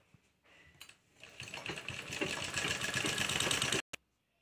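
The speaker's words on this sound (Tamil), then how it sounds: "டபுளாக மடிச்சுட்டு இதை வந்து ஒரு தையல் போட்டுடுங்க." A sewing machine stitches along a doubled, folded cloth strip for a bangle cover, starting softly and building to a steady close whirring run before stopping abruptly with a final click.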